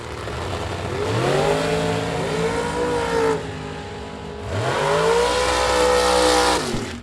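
Pro Charged dragsters at a bracket drag race roar through two launches, engines rising in pitch as they accelerate hard, with a brief drop between runs, loud and close.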